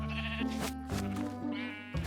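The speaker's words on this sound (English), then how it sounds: "the sheep," Sheep in the video game Homestead bleat several times in quick succession, nasal wavering calls up close and fairly clear with no talking.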